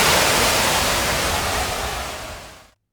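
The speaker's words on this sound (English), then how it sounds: "Adding 1 cup of water to the hot oil causes the fire to flare and spread dangerously." A hot cooking oil fire flares violently after a cup of water is poured in, giving a loud, dense roaring whoosh that holds steady and then cuts off abruptly.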